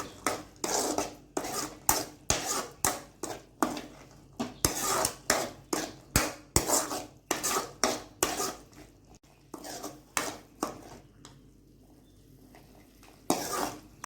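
Boiled peas are worked into masala in a metal pan for a roadside-style sundal, with a run of quick, rhythmic clanks and scrapes of a spoon against the pan, fairly close, pausing briefly before a final knock.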